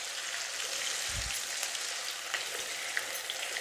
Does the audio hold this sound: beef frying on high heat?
yes